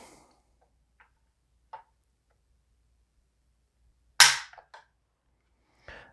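The trigger on a US-made Palmetto State Armory PSAK-47 GF5 AK rifle is pulled during a pull weight test: a few faint isolated clicks and one sharper snap in near silence.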